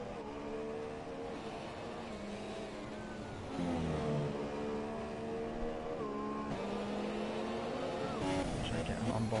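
Formula 1 race car engine in F1 2017, a high harmonic whine sweeping up and down with gear shifts and curb-hopping, fairly loud and continuous, with voices talking over it.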